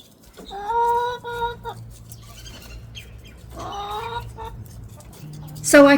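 Chickens cluck and squawk in short bursts up close, with a louder outburst at the end over a low background hum.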